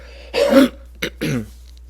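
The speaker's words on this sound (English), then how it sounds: "Trying to get over a cough over here too, cold." Two dry coughs from a person with a cold, one longer and then a shorter pair, close to the microphone in an otherwise quiet space.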